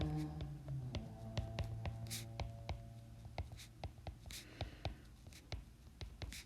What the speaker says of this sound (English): we're going to write this out